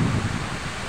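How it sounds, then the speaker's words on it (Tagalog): Strong, cold wind buffets the microphone in a brief, loud, low rushing gust, with no voices. "sobrang lakas, ang lamig ng hangin"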